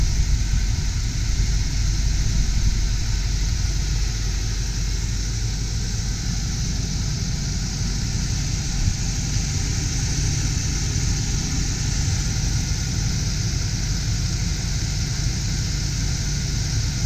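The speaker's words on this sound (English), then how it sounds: "engine's running nice and smooth." A 1989 Ford F-250 XLT Lariat with a 5.0L V8 idles smoothly, a constant, even low rumble with a steady mechanical hum, heard up close and unbroken throughout.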